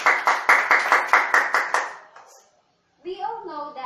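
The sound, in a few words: class clapping for guest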